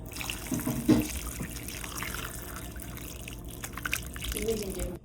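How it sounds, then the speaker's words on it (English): Hot broth poured into a pot of chicken kathiew soup with rotisserie chicken, carrots, celery and beef meatballs, a steady liquid splashing and trickling under light kitchen background noise. "Let's pour the broth."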